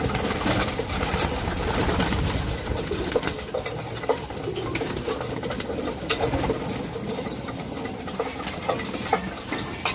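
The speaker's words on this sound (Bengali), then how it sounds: "কবুতর সব খায়, খায় না এমন কোনো জিনিস নাই।" A flock of pigeons pecks and scratches at scattered feed, making a busy, crackling patter, with soft cooing mixed in and continuing throughout.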